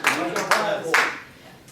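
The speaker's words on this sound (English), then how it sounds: "Give a round of applause for Jimmy." An audience breaks into applause after a speaker is introduced, a few quick bursts of clapping that quickly fade, with speech over it.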